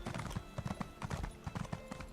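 Horse hooves trotting in Elder Scrolls Online, a steady clip-clop rhythm of repeated hoof strikes, close and fairly loud, with no talking.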